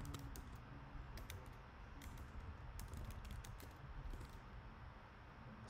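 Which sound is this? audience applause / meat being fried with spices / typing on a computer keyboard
typing on a computer keyboard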